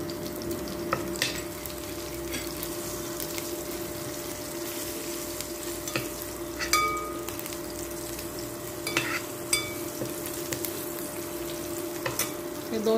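Asafoetida, garlic and chopped green chillies sizzle steadily in hot oil in a pan, a continuous close frying hiss with occasional scrapes and clinks of a stirring spoon, no talking.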